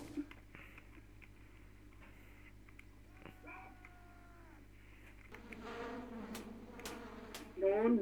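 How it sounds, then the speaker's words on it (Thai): A thin insect buzz from a mosquito bomb in the video game A Dusty Trip whines steadily, then swells into a denser swarm-like drone near the end, growing louder and closer. "ระเบิดยุงนี่ดีมากเลยเนาะ"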